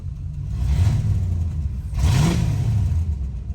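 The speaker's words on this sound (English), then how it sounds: "But even revving it up, it feels rough." A rough-running Corvette engine, fitted for nitrous on a cheap build, revs twice in quick succession, each low rumbling swell rising and falling, close and fairly loud with no talk.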